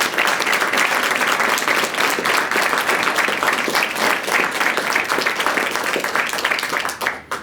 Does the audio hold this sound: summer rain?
no